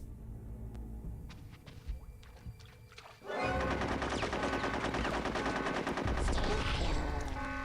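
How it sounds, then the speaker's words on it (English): Gunfire from the video game Conker's Bad Fur Day: a few sparse thuds, then sustained rapid machine-gun bursts erupt loudly and keep hammering without a break, with heavier crashing impacts near the end. "I think shooting without aiming is very ineffective"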